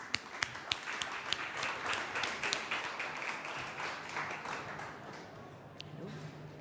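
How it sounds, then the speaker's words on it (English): An audience applauds to welcome a panel onto a conference stage, with dense clapping that swells and then gradually fades over a few seconds. "A big round of applause, please."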